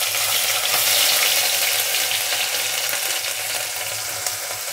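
Mustard seeds and coarsely pounded ginger garlic paste frying in hot oil for a cauliflower potato curry, a loud, dense, continuous hiss and sizzle heard up close.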